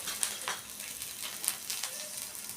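Green chili peppers sizzle and fry steadily in hot oil for tomato thecha, a continuous close crackle with occasional sharper pops and stirring, no voices.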